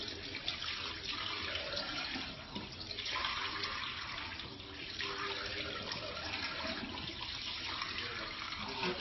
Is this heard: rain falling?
no